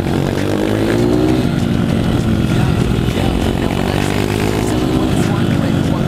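A loud supermoto motorcycle engine revs and drones continuously up close, pitch rising and falling with throttle changes throughout.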